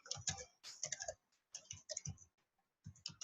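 Typing text into a design program on a computer keyboard, with close, crisp bursts of rapid keystrokes separated by short quiet pauses.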